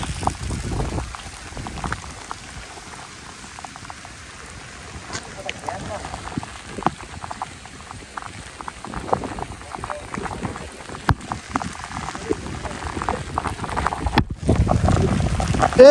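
Rain falling steadily during a motorbike tour, a dense crackling patter of drops on surfaces with wind and road noise, and people talking now and then.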